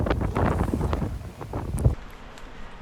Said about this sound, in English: it was definitely windy